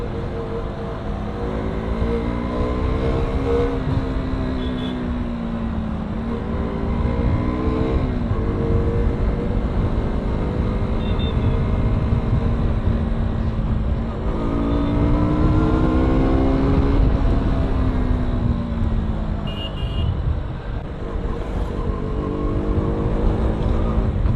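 A car accelerating along an open road on a trip to the Konkan countryside, engine revving up through several gear changes with rising and falling whine, loud and close throughout.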